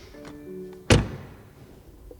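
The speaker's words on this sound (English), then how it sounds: "First of all, door closing sound." A 2020 BMW 3 Series Touring estate door swings shut with one solid, heavy thunk, loud and close, followed by a short fading resonance and quiet surroundings.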